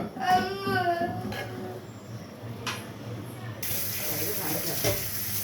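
Thick first-press coconut milk from four coconuts boils in a pot, a steady bubbling hiss that swells in the latter half, following brief voice-like tones near the start.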